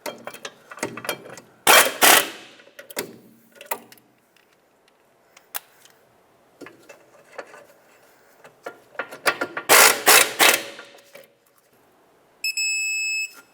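A ratchet wrench snugs and torques rear brake bolts on a 2007-2010 Chrysler Sebring in two loud bursts of rapid clicking. Quieter metal clinks fall between them, and a short electronic beep sounds at the end.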